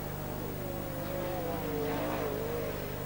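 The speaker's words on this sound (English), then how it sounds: "One of those motors sounds like it's really going off to either the 7 or the 5." Sprintcar engines roaring around a speedway track during a race, one motor running rough, heard as a distant, faint, wavering drone with a buzzing whine rising and falling.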